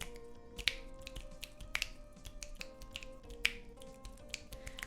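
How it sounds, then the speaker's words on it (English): Several sharp finger snaps land at irregular intervals, a few of them louder and crisper than the rest, over a faint hum of room noise with no talking. "Can you click your fingers?"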